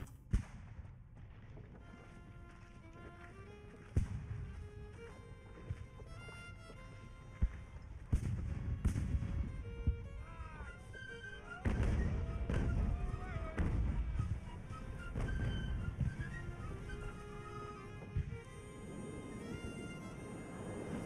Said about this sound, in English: My cannons are not even reaching the target.